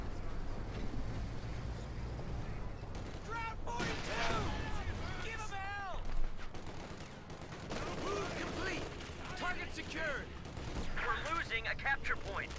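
Rattling gunfire bursts and mortar blasts from the World War II strategy game Company of Heroes 2 during a competitive match, dense overlapping shots and booms rising and falling throughout, with excited commentary talk over the battle.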